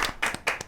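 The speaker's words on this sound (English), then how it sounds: "we about to just insert the clap track here" A short burst of distinct hand claps in a podcast studio, about five crisp, loud, close claps spaced irregularly, with no talk over them.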